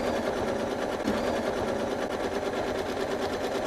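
A sewing machine stitches steadily through quilted fabric while the quilter guides it along a ruler. The needle hums as a continuous, fairly loud rapid buzz with no breaks and no talking.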